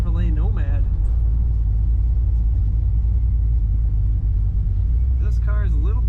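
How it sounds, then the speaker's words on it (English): Modified 1956 Chevrolet Bel Air Nomad with air ride suspension being driven: a steady low engine rumble runs throughout from inside the car, while someone talks over it at the start and end. "Today we're driving a beautiful 1956 Chevrolet Nomad."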